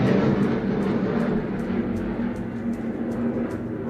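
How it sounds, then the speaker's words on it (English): A jet aircraft passes overhead as a steady, loud broadband roar with a low droning hum, continuous throughout with no talk. "Jet."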